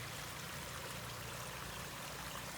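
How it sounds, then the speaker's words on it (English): A garden stream swollen after heavy rain rushes steadily through a wild, overgrown area, making a continuous broadband wash of flowing water with no breaks. "we've got a good bit of water going down here"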